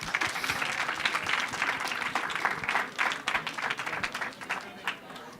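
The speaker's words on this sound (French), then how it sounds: "On peut vous applaudir" An audience at a French science talk applauds two guest researchers, a dense burst of clapping that thins toward the end, with faint voices underneath.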